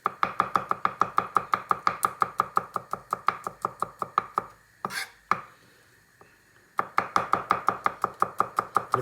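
Fast, steady knife chopping of garlic on a board, a rapid run of sharp close taps that pauses briefly with a scrape and a knock before resuming at the same brisk rhythm; no voices.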